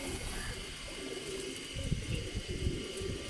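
A pigeon with white wing feathers coos in low, soft bursts that swell toward the end, over a steady background hiss with no talking.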